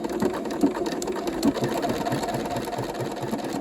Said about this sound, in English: So if I just press my start stop button here, it'll work. Okay, and then that's going to sew it out.